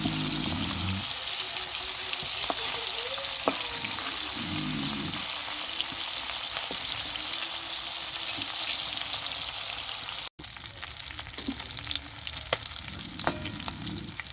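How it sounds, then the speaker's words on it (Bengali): Fish pieces fry in hot oil with a continuous close sizzle and spatter, broken briefly by a short cut, while occasional utensil scrapes and stirring sounds come through. "মাছগুলো তেলের মধ্যে দিয়ে দিয়েছি"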